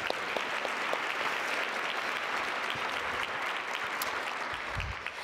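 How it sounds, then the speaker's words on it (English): Steady, dense applause from a gala audience at the 2018 ISB Gala's public service award presentation, continuing evenly throughout at moderate volume. "That deserves a round of applause."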